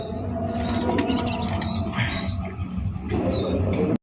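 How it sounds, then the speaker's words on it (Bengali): Red Rajgolla fancy pigeons coo in a farm loft, a steady low murmur of overlapping calls that continues throughout with a constant background hum. "দর্শক বন্ধুরা, এখানে হচ্ছে লাল লাল লাল কালারের কালারিং রাজগোল্লা কবুতর।"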